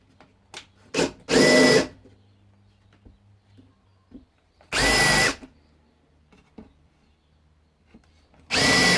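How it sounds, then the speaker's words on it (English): A power drill drives screws one at a time in a workshop, three separate loud whirring bursts with quiet gaps filled by faint clicks and handling taps. "So I'm just screwing on one at a time up to the line that I marked."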